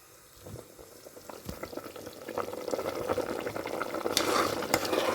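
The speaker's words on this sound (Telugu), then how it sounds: "ఇలా ఉడుకుతూ ఉన్న కూరలో 2 నిమిషాలు ఉడికించుకోండి" Potato curry bubbling in a pot while being stirred, soft scraping strokes and a growing simmering hiss that builds louder toward the end, close by.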